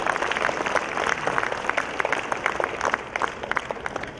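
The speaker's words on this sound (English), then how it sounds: "let's give a huge round of applause to them for their outstanding contribution" Audience applause for award winners at a corporate annual awards celebration, many hands clapping in a lively, crackling burst with individual sharp claps standing out.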